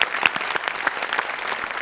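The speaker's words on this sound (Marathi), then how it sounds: "जोरदार टाळ्या" A studio audience at a Marathi comedy show breaks into loud, dense applause, with close, continuous clapping that holds steady for the whole moment.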